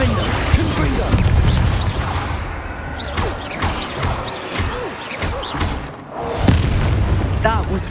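Confringo spell blasts in Hogwarts Legacy: loud booming impacts and crashing thuds through dense combat noise, with voices shouting over the fight.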